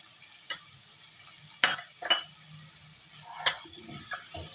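Onions, tomatoes and chopped green chili frying in a pan, with a soft steady sizzle under a few sharp spoon scrapes and stirring clatters.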